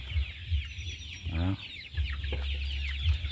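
Chickens cluck and squawk in a pen holding about 300 birds on a small poultry farm, with several close calls over a steady low hum and a voice briefly speaking.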